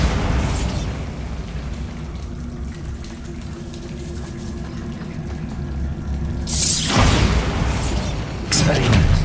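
Bombarda spell explosions in the video game Hogwarts Legacy: two loud, broad blasts land near the end, over a steady bed of game ambience.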